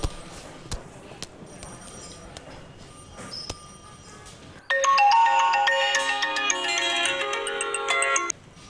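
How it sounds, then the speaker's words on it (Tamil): A phone call to a girl's house rings out, first as faint clicks and line noise, then a bright electronic ringtone melody plays loudly for several seconds before cutting off abruptly. "சார் ரிங் ஆகுது சார்."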